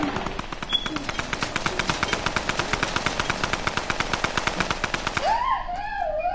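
Rapid automatic gunfire from a video game, fired at a building, a steady rattling burst of shots lasting about five seconds, loud and close, then breaking off into a rising whooshing tone.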